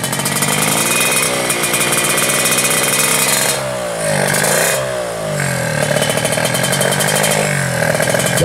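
Drag racing motorcycles, including a Ninja, at the start line of an Indonesian national championship, revving hard and close with loud buzzing engine wails that rise and fall in pitch, dipping briefly mid-way before climbing again.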